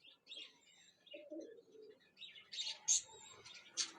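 Flying pigeons kept for sale at a pigeon club give soft coos and faint chirps, quiet and intermittent, with a few sharper calls near the end.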